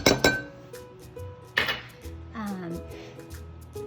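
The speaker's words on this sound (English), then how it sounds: "you want to whisk together your dry ingredients" Whisk clinking and scraping against a mug while mixing dry almond flour ingredients for a paleo mug cake, a few sharp knocks followed by softer rattling strokes, close and fairly quiet.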